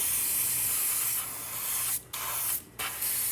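A Gaahleri Seeker airbrush spraying paint at close range, a loud continuous hiss broken by two short pauses where the trigger is released.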